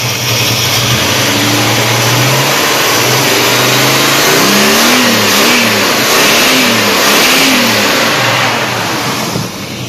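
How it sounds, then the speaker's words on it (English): A car engine revs loudly up close, rising and falling in several quick surges over a rough steady idle, with no talking. "Mess with the engine a little bit."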